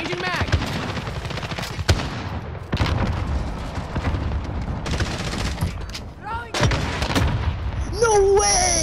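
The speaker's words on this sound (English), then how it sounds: "I just got instantly killed by Shemtex." A Semtex grenade explosion in Modern Warfare during a fast online match, heard among loud repeated gunfire and booming blasts, with a voice talking over the action.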